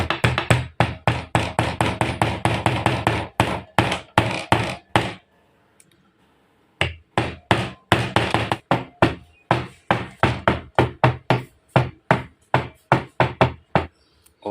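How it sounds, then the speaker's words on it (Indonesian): Rapid, close hammer strikes drive nails into a homemade grinder wrench in two long bursts of steady knocking, with a short quiet pause between them. "dan ini juga kita palu."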